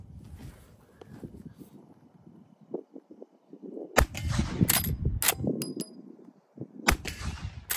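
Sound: Henry .45 Long Colt rifle shots hitting a brake drum

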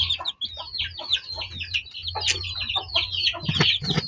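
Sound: chicks and hens clucking

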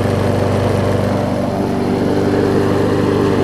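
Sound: Yard Pro push mower with Kohler engine running

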